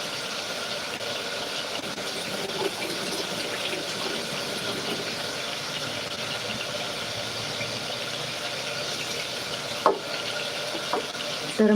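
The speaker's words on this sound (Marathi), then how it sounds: "आता इथं आपला कांदा टमॅटो छान फ्राय झालं आहे" Onion and tomato fry in a pan with a soft, steady sizzle throughout, punctuated by a couple of brief clinks near the end.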